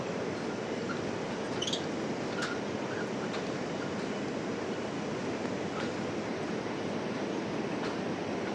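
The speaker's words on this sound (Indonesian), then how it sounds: "di bawah ini sungai dari Curug Sawer tadi ya, karena suaranya deres banget" Rushing river flowing from the Curug Sawer waterfall beneath a long suspension bridge in Indonesia, a steady broadband roar of fast water heard from above, with faint scattered clicks and no talking.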